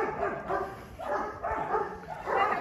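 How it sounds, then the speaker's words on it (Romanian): Dogs barking aggressively on a street, repeated harsh barks and yips in uneven bursts, fairly close and steady throughout, with no talking. "ce agresiv sunt câinii"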